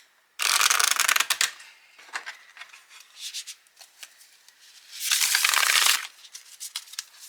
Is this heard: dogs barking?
no